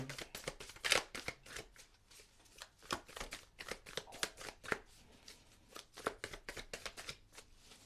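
A deck of cards being shuffled close by, with a long stream of sharp riffling snaps and flicks in uneven clusters and no speech.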